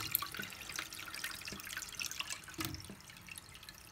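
Water trickles and drips steadily as a tank refills through a float valve, with a faint continuous flow and occasional soft drip accents, close and fairly quiet throughout.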